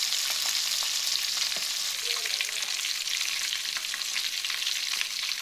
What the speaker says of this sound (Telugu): ఒక చిన్న కడాయి తీసుకొని దాంట్లో కొంచెం నూనె వేసుకొని అది వేడిన తర్వాత ఈ జాయింట్స్ అనేది వేసుకోవాలి